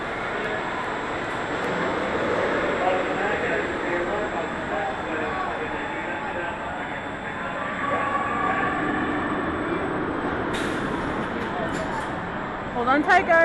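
The El Loco roller coaster on the Las Vegas Strip rumbles past in a continuous rolling roar of wheels on track, steady and fairly loud, with a sharper clatter near the end.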